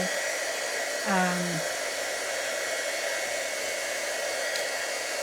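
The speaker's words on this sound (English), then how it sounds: "so hot gun, and I just come in, and once it starts to change, I chase it" A heat gun blows steadily and loudly throughout while melting embossing powder on a watercolour stamped card, with one brief higher-pitched squeak partway through and no talking.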